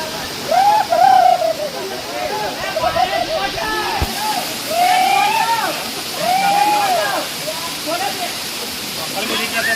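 At Rampa waterfall in Andhra Pradesh, heavy falling water makes a constant loud rush close by, while people talk over it throughout.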